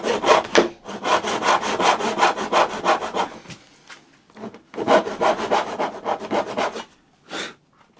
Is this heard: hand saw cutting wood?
yes